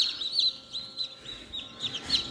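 Newly hatched chicks in an egg incubator cheep in a continuous series of high, thin peeps, close and clear with no talk.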